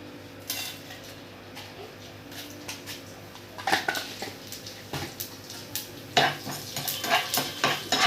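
A tempering of curry leaves, dry red chillies and a little cumin fries in a small amount of oil, heard as soft sizzling with utensil scrapes and clinks that grow busier and louder toward the end, close by and without voices.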